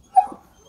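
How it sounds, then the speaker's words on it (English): A dog gives a single short, close whimpering yelp that quickly fades, loud and alone without any talk. "And I'm sorry about my dog Bruno making a mess of this whole video."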